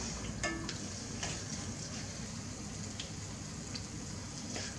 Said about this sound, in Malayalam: ഞാൻ ഒന്നൊന്നായിട്ട് പൊരിച്ചെടുക്കുന്നത്